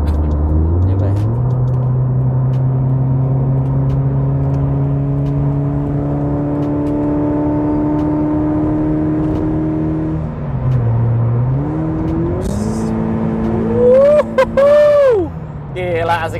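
A 2016 Toyota GT86 engine drones steadily while the car cruises, then climbs through gear changes and rises into sharp, loud revs, heard from inside the cabin.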